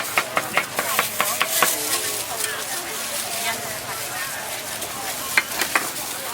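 Street vendor chopping braised pork face with a cleaver on a board, producing a quick series of sharp thuds that fade and then return, amid busy market hiss and chatter.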